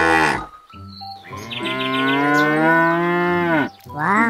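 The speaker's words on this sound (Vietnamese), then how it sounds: "một con bò sữa rất là đẹp các bạn ạ" A dairy cow lets out one long, loud, close moo that holds steady for a few seconds, with brief lowing sounds just before and after it and no other sounds.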